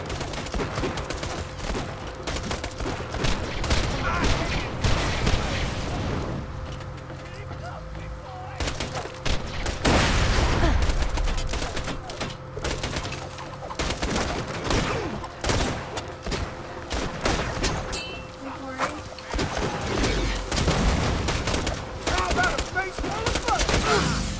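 Rapid bursts of gunfire from weapons in the video game Borderlands 2, loud and continuous over about 25 seconds with a dense, chaotic battle mix and a voice speaking underneath.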